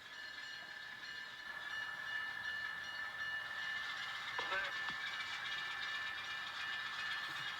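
N scale model trains run on track with a steady high whine and faint clicking under a continuous hum, quiet and unbroken, with a brief clatter partway through.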